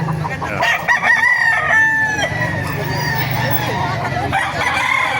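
Chickens and a rooster at a chicken market in Baliuag, Bulacan, crowing and clucking loudly and close by in a dense, continuous mix, while someone talks over them.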